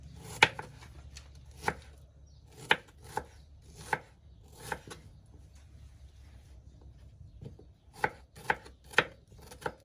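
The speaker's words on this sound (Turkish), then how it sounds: "Küp küp doğrayacağız." A knife chops peaches into cubes on a board in irregular bursts of sharp taps, close and clear, with quiet pauses between runs.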